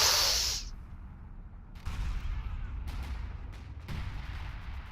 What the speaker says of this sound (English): Where is this artillery gonna land?